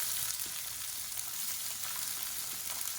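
Whole small shallots and sliced onion frying in hot oil for sambar, a steady close-up sizzle and crackle with a soft hiss, continuous and even with no talking.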